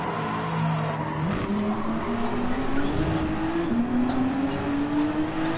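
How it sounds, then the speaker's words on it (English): A Corvette race car in Gran Turismo 7 drones past with a steady engine tone that rises in pitch in steps through gear changes, loud and continuous over the racing din. "was that the Corvette passing me again?"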